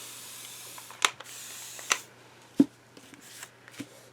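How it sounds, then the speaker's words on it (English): A spray bottle gives several short, sharp spritzes of water onto paper during an image-transfer craft, each a quick hiss, spaced about a second apart in a quiet room. "So we're going to spritz with water"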